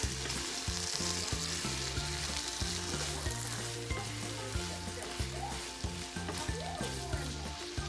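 Corned beef hash with potatoes frying and sizzling in a pan while being stirred, a loud, steady crackle close up with a rhythmic scraping of the utensil through it.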